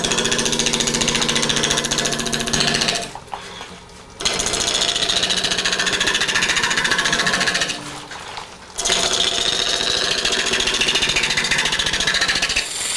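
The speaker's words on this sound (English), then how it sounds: "Going to turn the lathe on at a slow speed." A wood lathe spinning wet wood as light cuts are taken, a loud, dense, continuous whir and chatter that drops out twice for about a second each, no talk heard.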